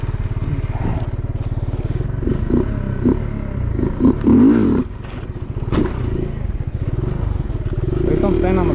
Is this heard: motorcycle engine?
yes